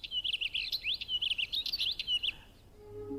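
Small mountain birds including a northern wheatear chirp in the Spanish Pyrenees above the tree line in spring, with a rapid run of close, bright, scratchy twittering phrases over a faint outdoor hiss that then fades out.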